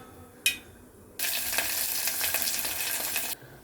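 Onions, green chillies and curry leaves hit hot oil with a short crackle, then a loud steady sizzle for about two seconds before it cuts off; no talking.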